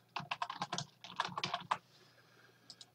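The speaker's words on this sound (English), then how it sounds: "I'm going to just type in second test again." Computer keyboard typing, a quick close burst of light clicking keystrokes that stops abruptly, followed by a couple of faint clicks in quiet.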